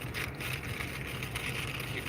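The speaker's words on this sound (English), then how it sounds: "There's a roar from this tornado." Intense tornado roar carried over a live storm-chasing feed: a broad, steady rushing rumble like heavy wind, continuous and fairly faint, with no voices over it.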